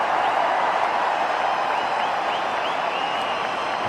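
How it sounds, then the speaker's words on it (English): A cricket crowd at a test match applauds steadily, dense clapping filling the stands at a constant moderate level, with no voices standing out. "The crowd's loving it."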